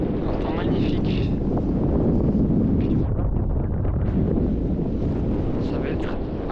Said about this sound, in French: Il y a un peu de vent, mais l'air est bon quand même.